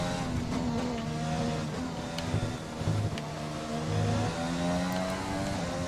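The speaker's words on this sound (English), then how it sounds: "Really got loose there, almost slid into the wall." Racing car in F1 2020 sliding loose toward a wall, steady engine drone with harmonic whine and brief tyre squeal bursts, close and continuous with no talk.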